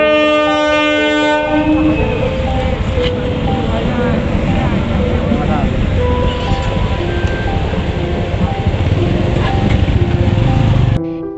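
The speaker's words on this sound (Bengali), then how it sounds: "এটা হচ্ছে ভাগীরথী এক্সপ্রেস, তো শিয়ালদা থেকে লালগোলা যায়" The Bhagirathi Express runs from Sealdah to Lalgola and passes a level crossing. A long, loud horn blast opens, then carriages rumble and clatter by up close for several seconds as a voice speaks briefly.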